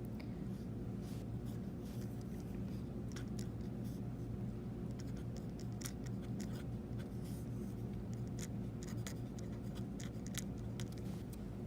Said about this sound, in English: So our balanced equation, I'm going to go ahead and write it.